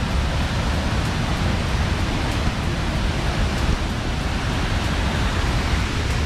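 Waterfall at Cachoeira do Neghérbon in Doutor Pedrinho, Santa Catarina, rushing in a steady, loud broadband roar throughout, close by and unbroken, with no voices.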